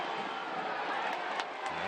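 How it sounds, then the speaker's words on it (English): A home soccer crowd at a Tampa Bay Rowdies versus Pittsburgh Riverhounds match roars in a steady, distant wash of cheering that holds for the whole stretch. "crowd loving it"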